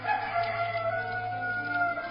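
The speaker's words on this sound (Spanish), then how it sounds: "el gallo cantó." A rooster crows in a long, drawn-out call, heard alone and fairly close in a narrow-band recording, steady throughout the short stretch.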